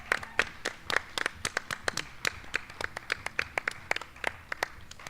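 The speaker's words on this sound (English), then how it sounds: "Clap it out." A festival crowd claps in loose, uneven rhythm at an outdoor music event, with sharp individual hand claps mixed with scattered cheers, moderately close and without clear talk.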